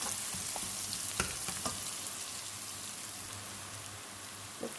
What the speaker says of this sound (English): really cook the spices well